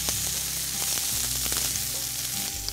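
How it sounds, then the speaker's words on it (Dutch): Cubes of courgette frying in olive oil in a pan, a steady close sizzle with light crackling running throughout. "dan gaan we onmiddellijk onze courgetteblokjes aanbakken."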